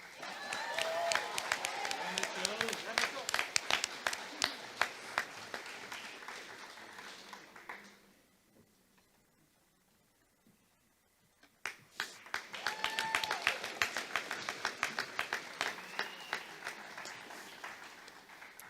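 Audience applause at a Class of 2021 graduation ceremony for a graduate, with a dense burst of clapping that fades to near silence midway and then swells again into a second round of applause.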